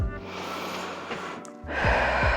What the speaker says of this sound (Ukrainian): Вдих і видих. Вдих і видих.